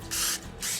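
Cooking spray from an aerosol can hisses over fried bread dough in a home kitchen, two short bursts close to the mic, loud and steady, with a brief pause between them.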